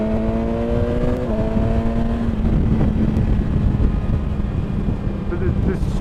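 A 2017 BMW S1000XR motorcycle engine at riding speed: a steady, loud drone with a rising tonal whine that shifts pitch as it changes gear, overlaid by wind rush, with the rider talking over it.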